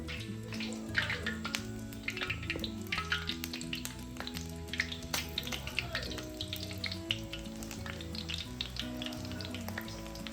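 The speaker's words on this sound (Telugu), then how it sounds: "దీన్ని ఇప్పుడు ఆ వేడి వేడి నూనెలో, నూనె కాగింది కదా, వేడి నూనెలో చేసుకోవాలి" Potato murukku dough frying in hot oil, a dense bubbling sizzle with intermittent clinks and taps of metal utensils nearby, steady throughout without speech.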